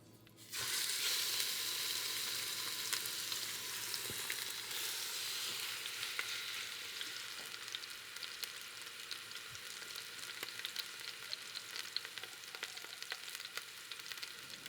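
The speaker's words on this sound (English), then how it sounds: "So we're gonna move over there and sear the meat." Nutria meat hits about two tablespoons of hot oil in an Instant Pot and sears with a sudden loud hiss that settles into a steady crackling sizzle, with occasional pops and faint movements.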